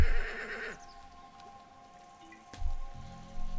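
A horse in the video game Rising World gives a short, bright whinny, followed by quieter ambient game sounds and a few soft thuds of hooves or movement.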